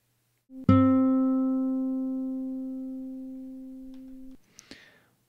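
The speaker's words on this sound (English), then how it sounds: "I recorded a sample of an acoustic guitar note." A single plucked acoustic guitar note rings out close and clear, sustaining steadily and slowly fading for several seconds before being damped, followed by a brief soft handling noise.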